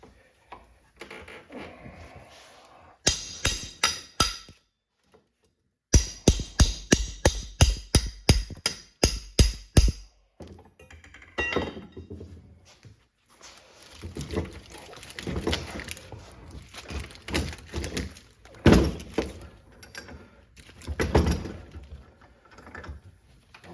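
Sealed-unit copper clamped tight in a vise takes a series of hard hammer whacks, bursts of sharp metallic blows in quick rhythm with pauses between, followed by scraping and handling noises close up.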